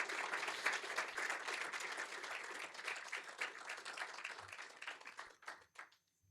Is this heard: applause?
yes